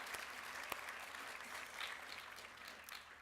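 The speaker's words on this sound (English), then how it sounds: "Go ahead, clap it up for them." Audience applause for conference staff at the NCRC Just Economy Conference, a steady wash of clapping from a large crowd with one sharper clap standing out early, moderately distant and even throughout.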